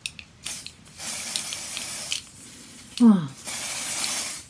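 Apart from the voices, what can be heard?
Dior primer setting spray being sprayed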